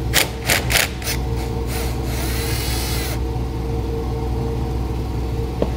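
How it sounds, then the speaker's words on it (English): A 12 millimeter socket on a power tool spins off a nut during a trailer brake controller install on a 2017 Toyota, several short rattling bursts followed by a longer whir, then a quiet idling hum. "We're gonna use a 12 millimeter socket to remove the nut."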